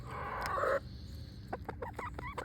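Backyard chickens cluck and squawk nearby, a louder drawn-out call first, then a string of short, soft clucks in quick succession, moderately close in a quiet outdoor setting.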